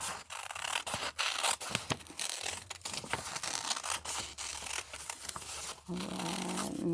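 Scissors snipping through cardboard to cut out parts of a Thanksgiving turkey craft, a rapid run of close, crisp crunching cuts with short pauses, loud and steady throughout.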